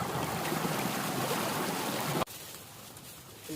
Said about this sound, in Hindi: पानी चल रहा है।